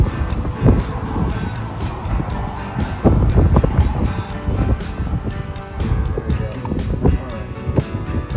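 Gusty wind blowing outdoors beside a car trailer, buffeting the microphone with heavy, continuous low rumbling and scattered knocks and clicks throughout.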